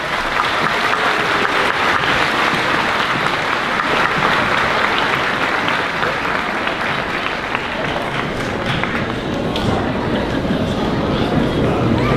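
A school crowd at a fifth-grade moving-up ceremony gives a long, loud round of applause. The clapping stays dense and sustained throughout, with a few scattered cheers and voices mixed in.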